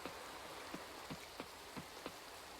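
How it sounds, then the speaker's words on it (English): Steady rain patters down in the farming game Coral Island, a dense hiss with a few sharper drops landing at irregular intervals, moderately quiet and with no voices. "It's actually raining in the game now"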